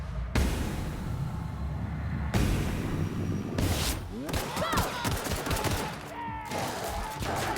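Gunfire in the video game The Outer Worlds: loud rapid bursts of shots in quick succession, then sharp ricochet-like zips and impacts, close and dense throughout.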